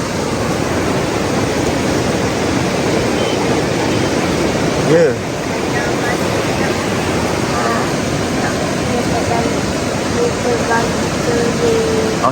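A river swollen in the rainy season at Pos Kuala Mu in Perak rushes in a loud, constant broadband roar close by, with brief voices speaking over it.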